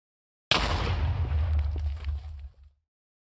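An End Crystal explosion in Minecraft: a single loud, close blast with a heavy low rumble, decaying over about two seconds with no talk.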